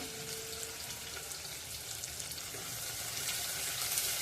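Onion with ginger garlic paste fries in a spoonful of oil over low gas, a dense, even hiss and crackle that holds steady throughout, close and unbroken, with no talking.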